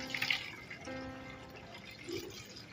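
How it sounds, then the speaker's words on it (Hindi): Water poured into a bottle of kitchen waste and jaggery, a faint trickle and splash with a short gurgle near the start and another brief splash later, quiet and close. "ये हमने पूरा इसमें पानी भी भरा।"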